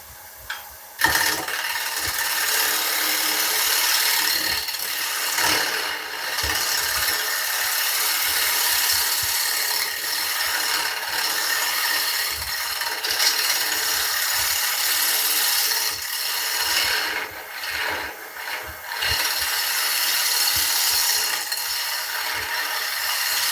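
A wood lathe turning a spinning workpiece, with the tool peeling off thin shavings in a continuous loud, hissing scrape that dips briefly now and then and carries on throughout.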